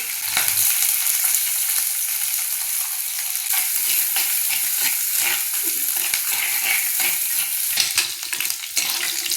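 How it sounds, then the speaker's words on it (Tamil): Dried red chilli, green chilli, ginger, garlic and shallots sauté in a hot pan for a vegetable chicken curry, giving a steady, loud, close sizzle with frequent scraping stirs throughout. "நல்லா வதக்கிட்டோம்"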